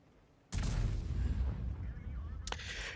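A tank gun fires in the online game World of Tanks: one sharp, loud close blast that rumbles and decays for about two seconds, then a second shot or impact crack near the end.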